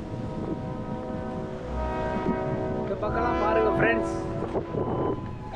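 Strong wind gusting across the beach at Cuddalore, a steady roar with waves, while people talk throughout.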